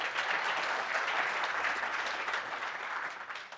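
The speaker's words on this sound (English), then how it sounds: "If you give them a big round of applause" A big round of applause from a conference audience, dense steady clapping that fills the room and begins tapering off toward the end, with no voices over it.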